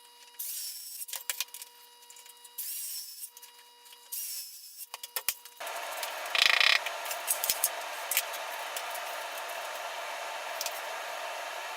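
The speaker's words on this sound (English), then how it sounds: "Here I am drilling the holes for the dowels." Holes for wooden dowels are drilled using a homemade jig in a woodworking project: repeated bursts of a whirring drill, then a longer continuous grinding run with scattered clicks, moderately close.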